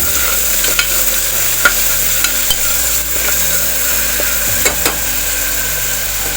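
Ground masala paste roasting in a pan, with a constant hissing sizzle and occasional sharp clicks of a spoon stirring against the metal, close and loud with no voices.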